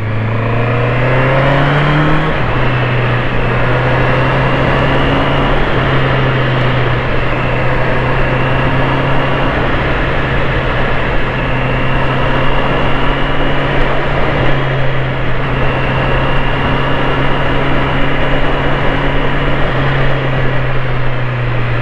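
A 2024 Honda CB650R E-Clutch motorcycle engine runs steadily at a constant idle, a loud, continuous drone with a low throb and no gear changes throughout.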